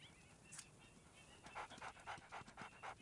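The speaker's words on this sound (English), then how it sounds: "dog noises." A wolf pants in WolfQuest: Anniversary Edition, a quick rhythmic run of soft huffing breaths that starts after a brief pause, faint and close, with no talking.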